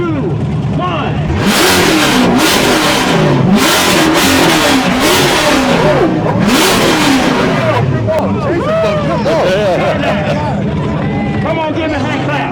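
A Corvette fitted with a LeMans exhaust revs hard and loud at an exhaust contest, the engine roaring in repeated surges while a crowd cheers and chatters close by throughout.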